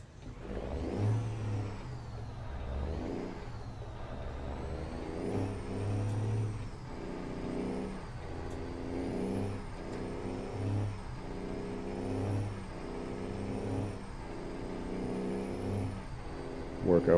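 A heavy truck engine in American Truck Simulator, 1,400 horsepower and running unloaded, revs up and drops back repeatedly as it climbs quickly through the gears, steady and close throughout.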